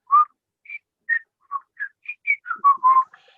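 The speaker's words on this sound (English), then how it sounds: "Assume my whistling is now Gauss." A person whistles a sequence of short, clear, separate notes that jump between pitches, about a dozen quick chirps in a few seconds, close and alone against silence.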